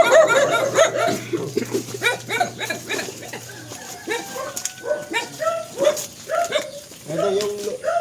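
Several dogs bark and yelp in scattered bursts on a farm in Isabela Province, near and fairly loud, with people talking among the barks.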